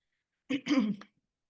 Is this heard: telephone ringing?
no